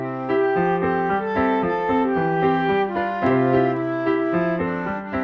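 Piano and flute play together with clashing, unsteady pulses, their notes landing out of step with each other so the rhythm feels lopsided and confused, a clear close melodic passage with no voices.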